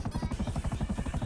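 Helicopter in GTA V, a steady rhythmic rotor chop with regular low-frequency pulses, close and continuous throughout.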